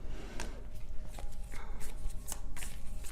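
Tarot cards shuffled by hand at close range, with a run of soft, quick riffling bursts at an uneven rhythm over a quiet room.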